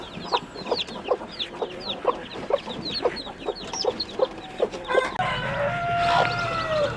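A broody hen and her chicks fill a coop with a rapid string of shrill, evenly spaced peeps close by, over softer clucking, before a denser flurry of overlapping chirps at the end.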